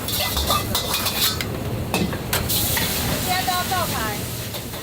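Chef stir-frying fried rice in a wok at a busy Taiwanese street food stall, with loud continuous sizzling, sharp metallic scraping and clanking of the spatula, and busy background noise.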